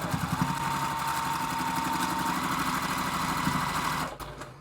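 A sewing machine stitches a quilt block in one continuous run, its fast, even mechanical whir close and steady for about four seconds before stopping. A few faint handling sounds follow.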